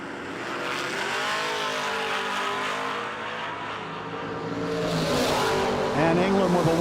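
Drag race cars, a Chevrolet S10 and a Ford Mustang, launching at a no-delay drag racing nationals event: loud engines roaring and rising in pitch as they pull away, with tire noise and a swell of revving near the end.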